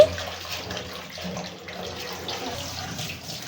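Leafy greens are rinsed under a running tap in a sink, with a steady splashing wash of water heard close up and no voices.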